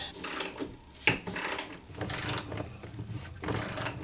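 Craftsman Mach Series 3/8-inch ratchet with an extended neck turning a screw behind a bathroom vanity basin, giving several bursts of close, rapid clicking from the pawl, each lasting about half a second with short pauses between.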